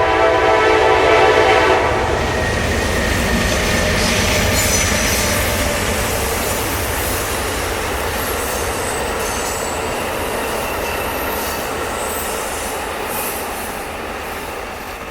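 Amtrak passenger train passing beside the C&O Canal at Lander, Maryland: a loud close rumble of wheels on rail with a horn sounding early, the roar holding steady then easing slightly as the cars go by.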